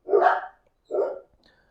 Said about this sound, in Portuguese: Os cachorros estão latindo ali, ó.